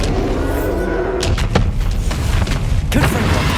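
A blasting spell from the Hogwarts Legacy PS5 game: a sustained low rumble broken by several sharp thuds and impacts. The last and heaviest one lands near the end.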